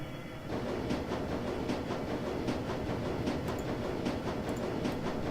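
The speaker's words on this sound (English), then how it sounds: "the train rumbles its way towards Brandenburger Tor" A train in the Shadowrun Returns Dragonfall video game rumbles along steadily, a dense continuous rolling noise with faint rhythmic clacks, starting abruptly after a brief quieter moment.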